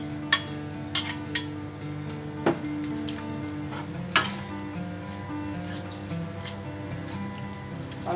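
Glass noodles are stirred into a pot of boiling milk, with a steady low simmer under a few sharp clinks of a utensil against the pot.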